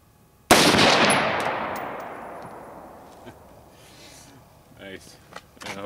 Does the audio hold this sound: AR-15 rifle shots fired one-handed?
yes